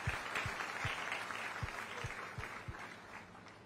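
Audience applause at a Chhattisgarh government event for distributing unemployment allowance instalments, a steady mid-level clatter of clapping filling the hall with a few sharper low thumps scattered through it.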